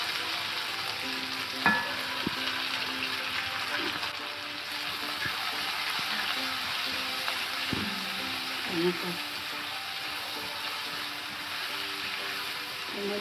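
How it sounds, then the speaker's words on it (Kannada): Three finely chopped onions fry in a pan with a steady, moderately quiet sizzle, joined by occasional spoon clinks and scrapes against the metal as they are stirred. "ಸಣ್ಣಗೆ ಹೆಚ್ಕೊಂಡಿದ್ದೀನಿ 3 ಈರುಳ್ಳಿ. ಅದನ್ನ ಹಾಕಿ ಫ್ರೈ ಮಾಡಬೇಕು"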